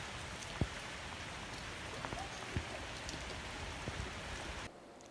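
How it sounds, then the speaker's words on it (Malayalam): Heavy rain with wind in Pattalam, Kerala, heard as a dense, steady hiss of drops on surfaces with a few sharper drips and taps, cutting off abruptly near the end. "ഇവിടെ പട്ടളത്ത് നല്ല മഴ എന്ന് പറഞ്ഞാൽ കാര്യമായ കാറ്റും മഴയും"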